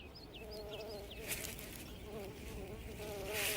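A bee buzzes near a young coyote pup in Yellowstone, a steady close insect drone with wavering pitch and a few short louder passes.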